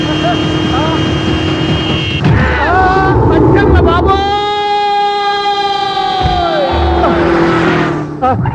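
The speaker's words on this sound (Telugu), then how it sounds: "సైరన్నే కొట్టాడు" A wailing siren rises and falls over a loud, busy mix of engine noise and voices.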